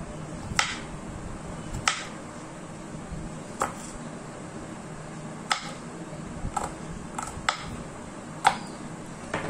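A knife cuts peeled skin into small pieces, giving sparse, sharp taps on a cutting surface, about eight of them at irregular intervals, close and fairly quiet with no talk.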